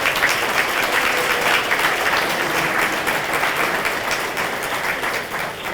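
A high school athletic hall of fame crowd gives the inductees a steady, full round of applause, dense clapping filling the room without a break for several seconds.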